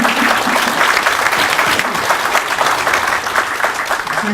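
Audience applause at a panel discussion on information science education policy, a steady, dense wash of clapping that fills the room from start to finish, loud and continuous with no break.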